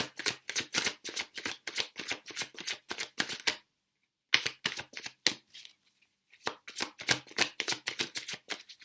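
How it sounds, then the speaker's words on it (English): Tarot cards riffled and reshuffled in quick, crisp bursts of rapid flutters, close and fairly loud, with two brief silent pauses between shuffles and no talking. "so I'm gonna reshuffle."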